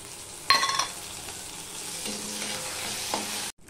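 Ginger and green chili sizzle in hot oil for a tempering, a steady close crackle that jumps louder as the ingredients drop in, with a few stirring scrapes and a sudden cutoff near the end.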